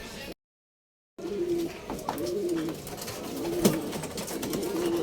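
Racing pigeons coo softly at the loft after returning from a fun race, repeated low cooing calls near and moderately quiet over faint background noise, after a brief silent gap.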